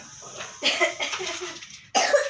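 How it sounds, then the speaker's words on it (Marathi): Two bouts of coughing close by, a longer rough burst followed by a short sharp one after a pause. "खोकला चालू झालं लगेच"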